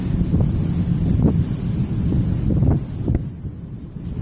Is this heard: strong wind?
yes